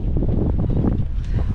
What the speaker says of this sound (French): Je sais pas si on va m'entendre avec le vent.